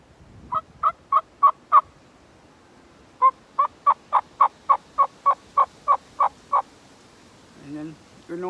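A mouth call imitates turkey yelps: two loud, close runs of evenly spaced, nasal yelping notes, five in the first run and about eleven in the second, with a short pause between them.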